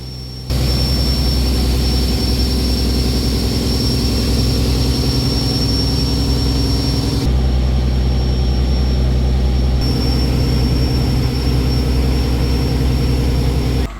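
A fishing boat's engine drones steadily and loudly while towing a smaller carrier boat at sea, a heavy low rumble with a high whine above it that cuts out partway through and then returns.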